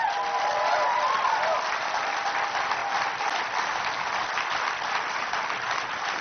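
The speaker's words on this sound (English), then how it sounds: "I hope we can have a round of applause for Free Speech TV" A conference audience gives a sustained round of applause, dense and even clapping from a large crowd lasting several seconds, with a brief voice heard at the start.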